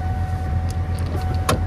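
A car's power window motor whirs briefly as the window fails to roll down, a short mechanical buzz over a steady low engine idle hum, close and fairly quiet with no talking.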